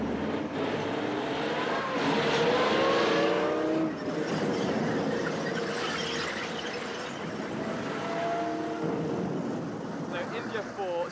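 Military vehicles, with one being towed by an armoured recovery vehicle, rumble past in a loud, continuous engine and track roar with squealing tones, and voices talk over the noise throughout.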